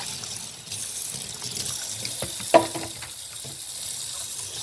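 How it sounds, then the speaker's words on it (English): Hot water running from a sink tap over a Pine-Sol container being washed, a steady close rush with one brief clunk of plastic midway. "Wash the bottom of the pine sol container."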